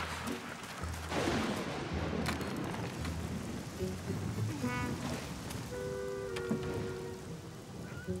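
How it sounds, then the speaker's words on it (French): Torrential rain pours down steadily and fills the background with a dense hiss, with a few sharp thuds and faint tonal sounds rising above it and no one speaking. "Mais il pleut à torrent."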